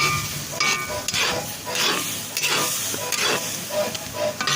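Ground beef browning for chili on a grill, giving a steady close sizzle and hiss with intermittent stirring scrapes throughout.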